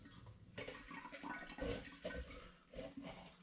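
Wet nasturtium leaves are pressed in a sieve with a potato masher, giving faint, close squelches and trickling, dripping liquid in uneven bursts.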